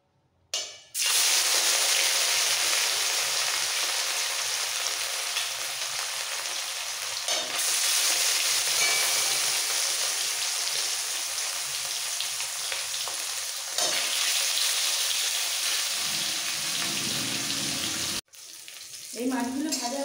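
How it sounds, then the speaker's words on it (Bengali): Raw rohu fish pieces frying in hot mustard oil in a pan, a loud, steady, broadband sizzle that keeps going for many seconds, with brief dips and a short cut near the end. "তেল ভালোভাবে গরম হয়ে গেছে, এবার কাঁচা মাছগুলো অল্প অল্প করে ভেজে নেবো"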